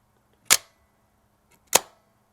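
Two sharp mechanical clacks about a second apart, a Mamiya 645 1000s medium format camera mirror flipping up and then the shutter firing, close and crisp in a quiet room.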